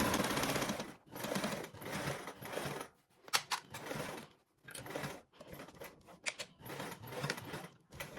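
Sewing machine stitching up the side seam of a fabric charm, running in steady rapid bursts with short pauses between runs, close and fairly loud with no talking.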